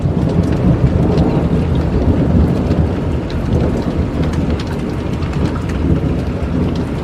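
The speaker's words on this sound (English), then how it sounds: "It's still raining." Steady, dense rain falls throughout a severe, windy thunderstorm, a loud continuous wash with scattered drop impacts and a low rumbling bed underneath, with no voices present.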